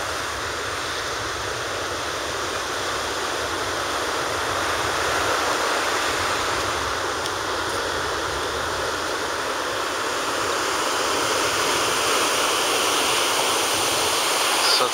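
Ocean surf rolls onto the Atlantic beach at Brigantine, New Jersey, as a continuous broad wash of waves heard from the shore, steady throughout with no talk.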